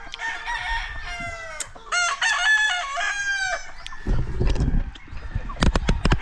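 Backyard chickens on a Filipino rambutan farm: a rooster crows loudly several times in drawn-out calls, followed by bursts of close clucking and squawks from the hens near the end.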